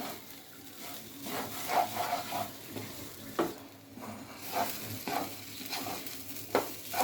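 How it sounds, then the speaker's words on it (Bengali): Rice frying in a pot for vegetable pulao, a soft continuous sizzle with intermittent scraping stirs of a spoon against the pot, close and fairly quiet, no voices. "চাল ভাজা হয়ে গেছে"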